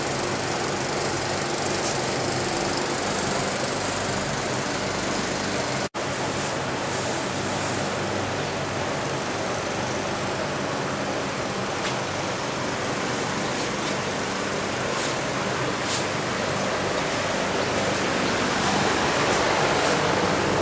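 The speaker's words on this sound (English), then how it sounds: "Nice big old fan spinning for us, sucking all the air out." A big exhaust fan in a car paint booth spins steadily, pulling air out with a loud, constant broadband roar and rumble for the whole stretch, with only a momentary dropout and no speech.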